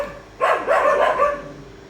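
Dogs bark at a cornered big lizard in one loud, close burst of about a second, with a yelping, whiny edge, then fall quiet.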